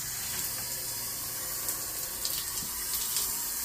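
Water runs steadily from a kitchen faucet sprayer, a close, even hiss and splash into the sink that holds constant throughout.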